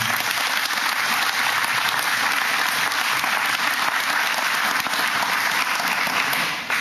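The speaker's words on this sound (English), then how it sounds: "that alone in itself deserves a big round of applause" Dense, continuous applause from a crowd fills a grand opening event, loud and even from start to finish, tapering only at the very end.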